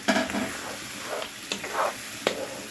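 Blended, strained tomato puree hits a hot pan of meat with a sizzle, followed by a few scraping stirs and clinks against the pan, close up.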